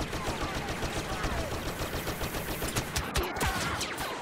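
Dense blaster gunfire in the Star Wars Battlefront video game, rapid overlapping shots and bursts sustained throughout at a loud, busy level.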